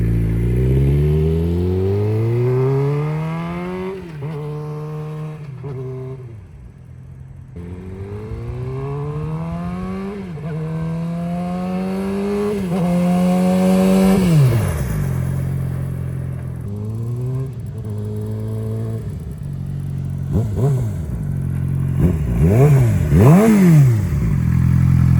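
A 2019 Suzuki GSX-R600 with an M4 slip-on exhaust revs repeatedly, its loud engine note climbing and falling in sweeping blips, close by, with quicker sharp revs toward the end.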